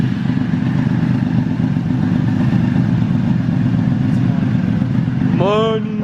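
A superbike's engine runs after being given fresh fuel, idling with a loud, steady, close rumble throughout and a brief rising whine near the end.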